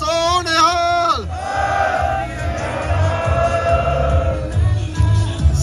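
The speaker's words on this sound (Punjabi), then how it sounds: "ਉਹਨਾਂ ਦੇ ਨਾਂ ਤੇ ਆਪਾਂ ਇੱਕ ਜਕਾਰਾ ਲਾਉਣਾ ਹੈ, ਬੋਲੇ ਸੋ ਨਿਹਾਲ।" A crowd answers the Sikh jakara 'Bole So Nihal' with a loud, sustained collective shout after a rising chanted call, at a gathering outside the Canadian Parliament in Ottawa.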